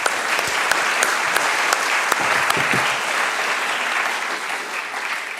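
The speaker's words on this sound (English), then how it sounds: "If you'd like to give a round of applause to our panel," A conference audience at a university sustainability symposium applauds its housing decarbonisation panel, steady dense clapping filling the room for several seconds and tapering slightly toward the end.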